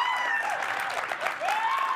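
Enthusiastic crowd applauding and cheering at a BYU basketball game, a steady dense wash of clapping with whistles rising above it, loud and continuous for the whole stretch.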